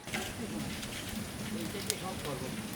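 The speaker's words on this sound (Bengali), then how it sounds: "কড়াইটা উঠে দিলাম, রুচিটা ভাজিয়ে নেবো" Ruchi sizzling in plenty of hot oil in a wok, a dense continuous crackle and spatter heard close, with a few sharper pops throughout.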